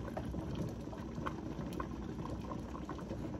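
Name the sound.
sinigang broth boiling in a pot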